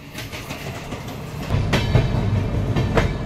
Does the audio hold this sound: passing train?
yes